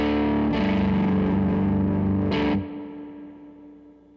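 Electric guitar through a Tone King Falcon Grande amp with spring reverb, a few strummed chords ringing out with a lighter reverb wash before decaying into a fading tail.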